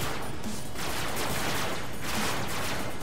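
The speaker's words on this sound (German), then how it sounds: "Warum schießt du auf mich?" Dense, continuous gunfire from the Robocraft video game, a rapid crackling barrage that stays loud and unbroken throughout with no voices.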